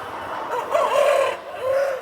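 Chickens at a crowded poultry farm cluck and squawk together in a dense, continuous chorus, with a drawn-out rooster-like crow rising near the middle, close and fairly loud, without speech.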